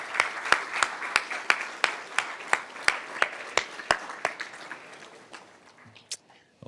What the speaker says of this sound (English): Please again join me in a round of applause for the talented students in our department.